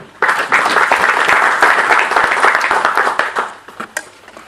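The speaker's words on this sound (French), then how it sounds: "J'appelle sous vos applaudissements" Audience applause at a French-language digital business conference welcoming a speaker to the stage, a burst of many people clapping that starts abruptly, holds steady, then thins out into scattered claps near the end.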